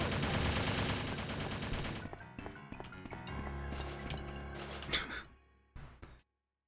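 Video game gunfire from Resident Evil Survivor, a dense burst of rapid shots with music in the first two seconds, then scattered sharper reports and clanks over a low rumble, ending in a couple of isolated hits.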